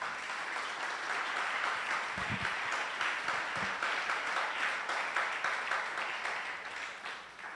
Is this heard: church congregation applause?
yes